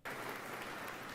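Audience applause fills a game trailer showcase for a Witcher 4 technology demo, a dense, steady clapping that starts abruptly and holds loud and continuous throughout, with no talk over it.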